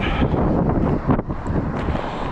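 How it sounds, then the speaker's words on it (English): Strong wind buffets the microphone in a continuous roaring rush, with gusts swelling and dipping briefly. "It is windy today."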